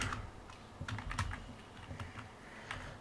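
Keys clack on a computer keyboard while a table for a cash memo invoice is filled in within MS Word, giving a quiet, uneven run of close taps with a few sharper strikes and no talking.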